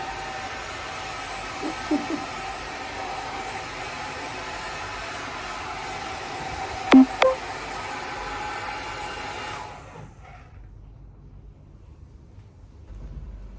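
A hair blower runs steadily while drying a dog after its bath, a continuous loud whooshing hum with a few brief knocks, then cutting off near the end to leave quieter room noise.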